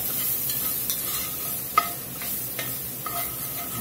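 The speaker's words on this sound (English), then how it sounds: "Just toast these spices up here" Cumin and chopped garlic toast in a hot pan with a steady soft sizzle, broken by a few light scrapes and taps as they are stirred, and no voices.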